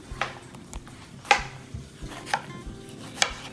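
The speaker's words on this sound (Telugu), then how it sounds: "కొంచెం ఈ సైజులో ముక్కలు కట్ చేసి పెట్టుకుని" Big tomatoes being chopped into pieces on a board, several sharp knife knocks at uneven intervals over a low kitchen background hum.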